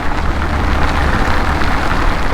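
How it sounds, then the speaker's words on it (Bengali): Heavy rain pounds steadily during a motorcycle ride, a dense close roar of water and wind with no breaks, as cars pass and splash water. "প্রচণ্ড পরিমাণে বৃষ্টি হচ্ছে"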